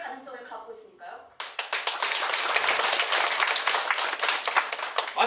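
Theatre audience breaking into applause at a Korean stage play, a dense, sustained burst of clapping that follows brief speech at the start.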